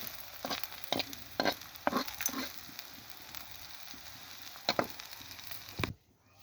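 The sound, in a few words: frying onions and garlic in oil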